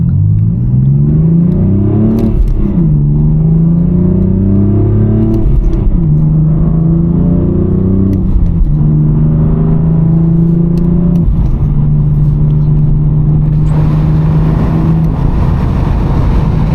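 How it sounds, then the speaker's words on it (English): 2016 BMW M4 F82 Competition driving at night, its engine note rising and falling through repeated gear pulls with steady harmonic drone, continuous and close from the cabin, no talk. "I will take you on a little night POV drive in a 16 M4 F82 competition."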